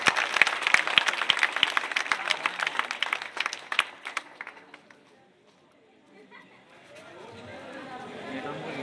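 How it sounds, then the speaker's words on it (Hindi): A crowd at a Chhattisgarhi public speech event in Jamul breaks into loud, dense applause that rolls for about four seconds and then fades, leaving faint murmuring and a rising background hum. "एक पूरा टीम बर जोरदार ताली बजा के स्वागत कर"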